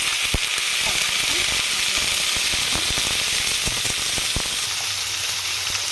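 Green chilies fry in hot oil in a kadai with a steady, loud sizzle throughout, broken by occasional light clicks of stirring.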